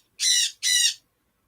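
Two loud, harsh squawks from a pet bird, each about half a second long with a brief gap between them, heard close up with no other sound around them.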